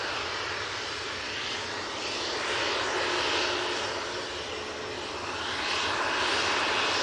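A Boeing 787 Dreamliner airliner rolls out after landing at Manchester Airport, its engines giving a steady, fairly loud roar with a broad rushing hiss that swells slightly and holds throughout, heard from a spotting position with no talk.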